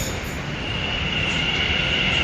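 A metro train arriving rumbles steadily past at close range, with a loud continuous roar and a high metallic wheel squeal running throughout.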